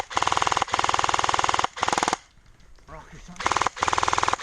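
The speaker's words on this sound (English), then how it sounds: "every time I pull the trigger, it'll fire, and every time I release, it'll fire" An Arcturus AK12 airsoft electric rifle fires loud rapid bursts of sharp mechanical shots in several strings, broken by a short quiet gap with faint rustling before the bursts resume.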